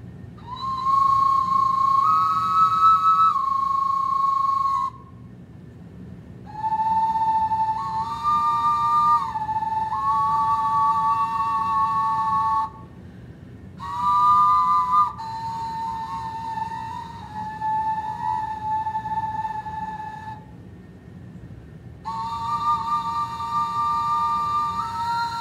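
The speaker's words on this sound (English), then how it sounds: "these little ocarinas, which can harmonize with themselves and create" An ancient Mexican double ocarina plays two airy, whistle-like tones at once, harmonizing with itself in several sustained phrases separated by short pauses, clear and close.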